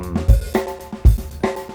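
Synth drum groove built with a Disting module and clocked from a No Coast synth, with deep kick hits and sharp percussive taps, each echoed by a quick slapback repeat in a loose, loud rhythm.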